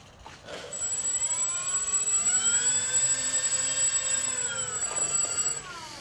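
A FlightlineRC B-24 model bomber taxis with its engines running: a loud, steady, high-pitched whine with a sustained shrill tone that holds for several seconds, then fades out near the end.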